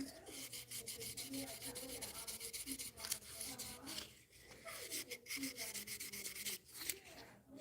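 Sandpaper rubs steadily over a musky crankbait lure, a continuous gritty scraping with repeated strokes, fairly close and moderately loud, with faint low voices in the background.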